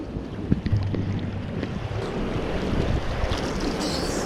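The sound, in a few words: flowing river stream water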